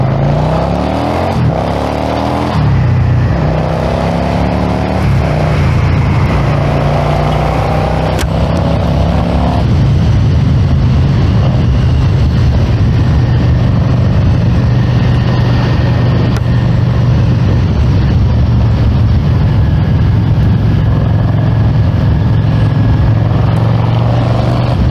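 A 1997 Yamaha XVS650 DragStar bobber's engine drones steadily while riding through Lucerne, Switzerland, loud and close with wind noise, its pitch dropping and revving between gear changes and engine braking.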